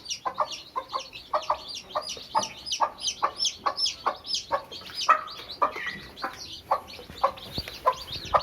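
A mother hen and her chicks cluck and cheep in a brooder as they feed, with close, rhythmic short calls repeating in quick succession throughout.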